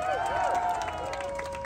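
Crowd cheering and applause for council member Julie Wan at a New York City rally against forced labor for home attendants, a sustained roar of voices with clapping mixed in, loud and close throughout.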